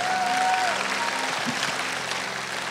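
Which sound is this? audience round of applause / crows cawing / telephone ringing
audience round of applause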